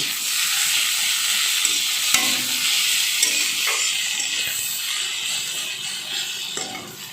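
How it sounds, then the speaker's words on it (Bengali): Chopped tomato goes into a pan of browned onions for a ridge gourd dal, giving a steady, loud sizzle and hiss throughout with occasional stirring scrapes, no voices. "এবার আমি টমেটো দিয়ে দিচ্ছি"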